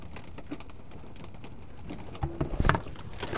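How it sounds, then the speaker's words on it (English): Steady rain falling on a dull, gloomy day, a continuous soft patter throughout with a few louder close knocks and splashes near the end, no talking. "I actually like the rain"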